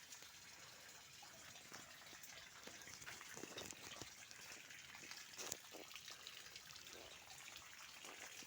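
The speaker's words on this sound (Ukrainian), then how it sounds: "Ось бачите, наскільки сильно вода біжить, попроривала плівку" Water rushing steadily and strongly through a grape greenhouse, tearing the plastic film, a continuous broadband gush with occasional splashy bursts, fairly close and without any talking.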